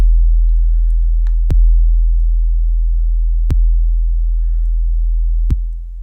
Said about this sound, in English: the sounds almost cancel each other out completely. That's really bad phase cancellation.